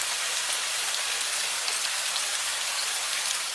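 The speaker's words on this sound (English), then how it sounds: "With a simple prompt like soft rain, it generates up to 30 seconds of crystal clear audio." AI-generated soft rain sound effect: a dense, even patter of rainfall on a surface, steady and continuous throughout with no pauses.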